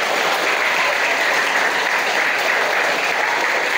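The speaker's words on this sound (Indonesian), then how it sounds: "Tepuk tangan untuk kita semua." Dense, continuous applause from an audience at an Islamic boarding school (pesantren) event, loud and steady for the whole stretch with no break.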